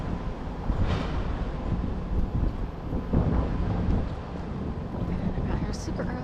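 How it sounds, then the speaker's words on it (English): Steady wind noise rumbles against the microphone throughout on a frigid early morning city street walk, with gusty low buffeting and a faint hiss, no clear voices. "It's a little windy,"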